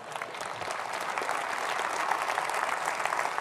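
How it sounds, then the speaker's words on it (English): A conference audience at a Conservative Party Conference breaks into dense, sustained applause that fills the hall at an even level throughout, with no voices rising above the clapping. "That applause for these great men."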